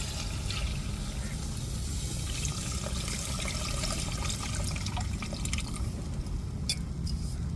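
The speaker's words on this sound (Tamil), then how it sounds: "இப்போ கரைச்சி வச்ச புளியை சேர்த்துக்கிடுவோம்" Dissolved tamarind water is poured into a Tamil fish curry of rock fish and drumstick, with a steady trickling, dripping liquid sound at moderate level and a few brief clinks near the end, no talking.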